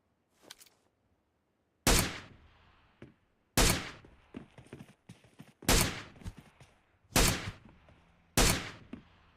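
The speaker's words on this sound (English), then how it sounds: "That's what the gun sounds like without the silencer." Assault rifle firing without a silencer in the video game PUBG, five or six loud single shots spaced about two seconds apart, each with a sharp crack and a decaying echo, with no talking.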